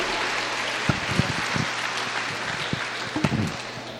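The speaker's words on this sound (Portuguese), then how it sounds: "Dê um forte aplauso ao Senhor Jesus." A church congregation gives a warm round of applause during a worship service, many hands clapping in a steady, moderately loud patter with a few sharper claps standing out.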